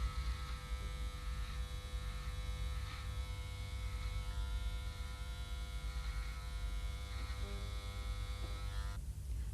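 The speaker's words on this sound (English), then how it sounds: "just use the clippers on their own without any guides at all" Breville electric hair clippers trimming a moustache: a steady, close electric buzz with a constant hum, running evenly and cutting off abruptly at the end.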